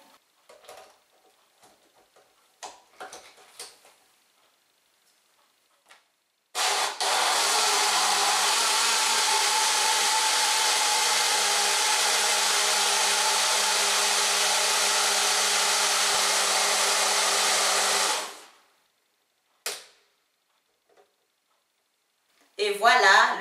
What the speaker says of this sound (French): Maintenant, je vais mixer tout ça.